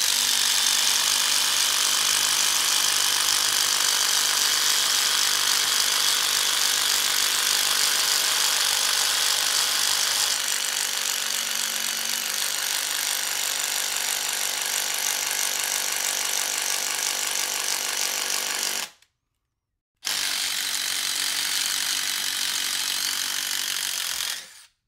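Loud, continuous mechanical whirring of a DeWalt cordless drill, Atomic or XR model, driving a speed bore bit through wood, sustained with a brief stop near the end before restarting.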